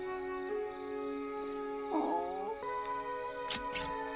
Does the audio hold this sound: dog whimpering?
yes